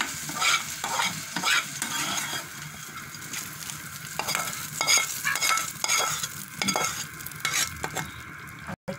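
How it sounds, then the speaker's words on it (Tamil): Sautéed vegetables are stirred into a pot of kathamba sambar with repeated scraping, clattering strokes over a soft background sizzle, close up and without speech. "வதக்கினதை சேர்த்துட்டு நல்லா கலந்து விட்டுறலாம்."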